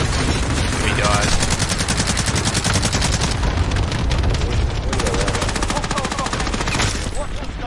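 Rapid automatic gunfire from the video game Warzone, loud and near, with dense repeated bursts of shots running almost the whole time and a voice briefly heard over it.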